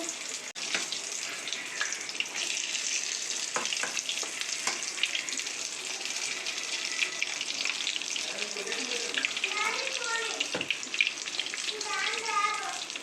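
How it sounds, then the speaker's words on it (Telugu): Fish pieces frying in a pan, a steady dense sizzle and crackle of hot oil throughout, with occasional faint clinks and a brief voice near the end. "నువ్వు ఇలా కాసేపు ఫ్రై అవనిద్దామండి."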